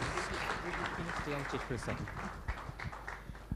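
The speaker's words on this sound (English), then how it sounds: "A big round of applause to these people on stage" Applause from an audience at the Take Pride 2016 stage event: a dense, steady wash of clapping runs through the whole stretch, with voices talking over it.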